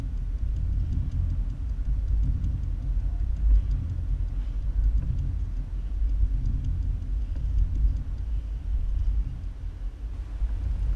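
A vehicle carrying a Swagman fork-down roof-mounted bike carrier rolls over alternating speed bumps, giving a steady low rumble with faint ticking and rattling above it and no one speaking.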